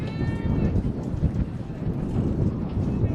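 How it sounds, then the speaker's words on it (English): Strong wind at a baseball game buffets the microphone in a continuous, rumbling roar with gusty surges, loud and close throughout. "you can really feel the wind whipping up here"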